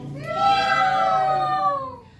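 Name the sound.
child imitating a cat's meow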